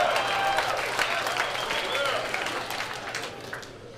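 Comedy club audience breaking into brief applause and scattered clapping at the opening of a stand-up show, loud at first and tapering off over a few seconds.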